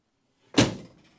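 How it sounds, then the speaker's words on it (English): Driver's side door of a Dodge Charger crew cab under restoration, needing its shims redone, shut once with a single solid thunk that decays quickly after a quiet lead-in, close and alone. "The reason why I open and close the doors"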